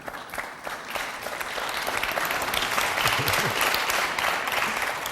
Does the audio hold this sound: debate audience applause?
yes